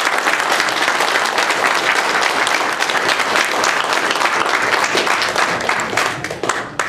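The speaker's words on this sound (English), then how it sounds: "So if we could give Dan a big round of applause." Dense, steady applause from an audience thanking a guest speaker at a GamesBeat games-industry talk, loud and close, filling the whole stretch before easing slightly at the end.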